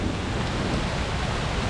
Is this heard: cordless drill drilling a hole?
no